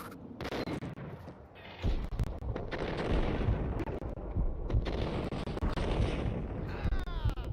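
Gunfire in Max Payne plays in slow motion as dense, heavy, booming shots and bursts over continuous battle noise, loud and close throughout, with someone talking over it.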